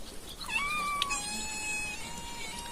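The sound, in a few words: cats meowing for food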